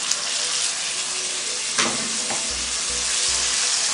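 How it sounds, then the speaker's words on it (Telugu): Chicken with a tomato and chilli paste sizzles and fries in a pan, a steady close hiss broken by a few stirring scrapes and soft knocks of the spoon. "బాగా ఫ్రై అవ్వండి."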